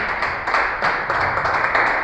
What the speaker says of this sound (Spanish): Pues vamos a darle un aplauso al Señor